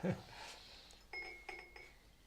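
A whisky tasting glass clinks faintly against a hard surface a few times in quick succession, with quiet room noise in between.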